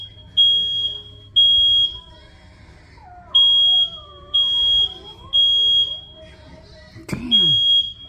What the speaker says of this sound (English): Oh, the alarm's gone off now.